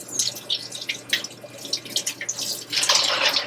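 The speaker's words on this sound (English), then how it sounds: "We're going to gently remove the ice glaze in our sieve off our shrimp." Lukewarm tap water runs over frozen shrimp in a sieve to rinse off their ice glaze, with close, irregular splashing and trickling that swells into a fuller, steadier rush toward the end.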